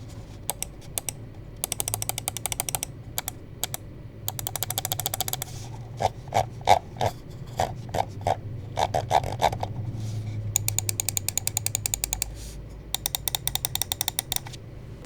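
A Zaopin Z2 budget ergonomic mouse with hot-swappable switches is clicked close up, with rapid runs of crisp clicks broken by short silences and a slower series of separate clicks in the middle.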